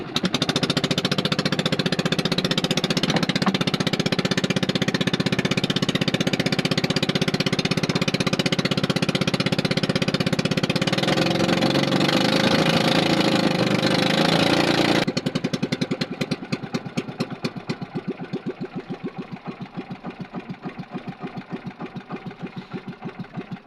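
A small fishing boat's engine starts up and runs loudly and steadily, then its pounding note drops to a lighter, rapid chugging idle that carries on to the end.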